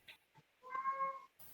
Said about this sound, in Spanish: se ve que hasta mi gato está de acuerdo, porque no sé si se escucha de fondo.